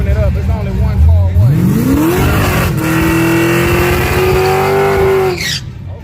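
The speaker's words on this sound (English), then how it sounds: "did a good burnout" A car does a burnout at a drag race in Dallas, Texas, its engine revving hard and rising in pitch into a long sustained roar with tire squeal, loud and close, with crowd voices underneath before it cuts off.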